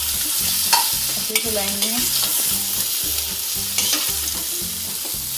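Stuffed okra (bharwa bhindi) fries in a pan with a steady, loud sizzle, broken by clinks and scrapes as it is stirred, plus a brief spoken word partway through.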